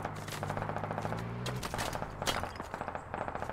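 Gunfire from a firefight in the Squad military shooter game: bursts of rapid shots crackle at a moderate distance, with a sustained automatic rattle early on and scattered sharper reports afterward.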